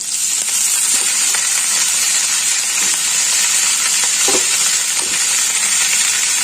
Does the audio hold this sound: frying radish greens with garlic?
yes